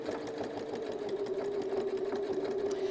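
Sewing machine stitching around a mandala quilting pattern with a rotating guide, a steady fast mechanical hum and needle chatter running unbroken, close and moderately quiet.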